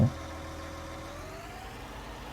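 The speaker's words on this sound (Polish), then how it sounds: "bardzo ładnie ten silniczek tutaj pracuje" John Deere tractor engine running in Farming Simulator 19, a steady low idling rumble with a faint rising tone, heard alone and close throughout.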